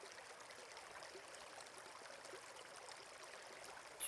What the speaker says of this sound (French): bientôt tu découvres un ruisseau scintillant